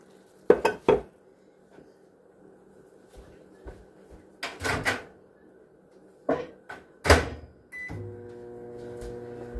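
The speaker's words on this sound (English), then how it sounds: "I'll melt it in the microwave." Kitchen clatter of dishes and a drawer closing, then a steady microwave oven hum starts near the end and continues as it melts butter.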